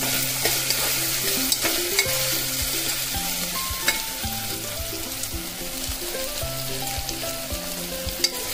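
Onions fry in a pan for khichadi, giving a steady close sizzle broken by frequent scrapes and taps as a spoon stirs them, with a few sharper clicks against the pan.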